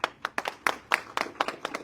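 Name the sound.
audience applause at a political event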